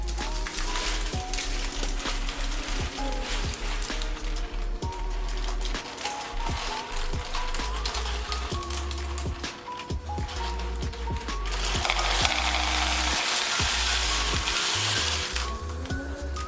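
Baking beans tipped out of a blind-baked pecan pie pastry case rattle and clatter in dense, busy bursts of small hard clicks, close up, with a brief heavier pouring spill near the end.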